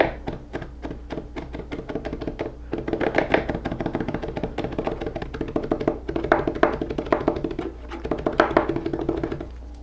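A kitchen knife minces ingredients for King Ranch chicken on a cutting board, giving quick, steady chopping taps in a close, continuous rhythm that builds slightly in intensity.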